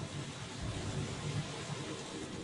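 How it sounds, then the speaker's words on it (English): Heavy rain falls in a constant, dense hiss at low level, with a soft rumbling undertone and no voices. "heavy rains began"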